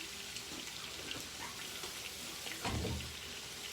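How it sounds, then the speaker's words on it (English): Water splashed into a skillet of cooking pork and bean hash, a brief burst of pouring and sizzling near the end over a steady background of bubbling and kitchen noise. "I'm going to add me just a little splash of water here."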